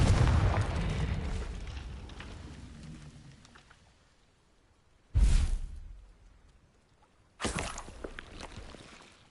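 A Confringo blasting spell detonates in Hogwarts Legacy, a heavy booming explosion fading away, followed by two more sharp loud blasts with decaying rumble.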